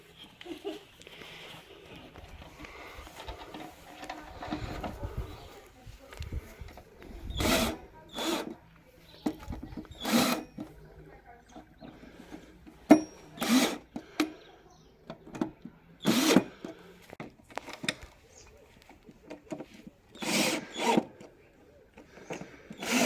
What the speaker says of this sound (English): also to have a cordless drill doing this work will make your work, your function much quicker.